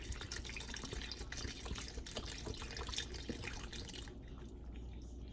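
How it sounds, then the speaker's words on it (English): Half and half pours in a steady liquid stream into a cooking pot for macaroni and cheese, a continuous faint splash that runs for several seconds and then cuts off. "Now I'm putting in the half and half."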